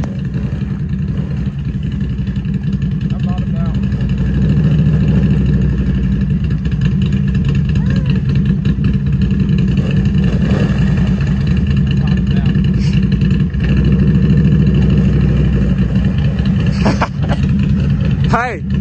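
A Can-Am off-road vehicle stuck in mud, its engine droning and revving steadily at mid pitch throughout, close and loud, with people talking over it.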